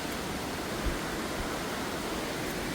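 A stream rushes at a trail water crossing in North Carolina on the Appalachian Trail, a faint, steady hiss of flowing water that carries on without a break.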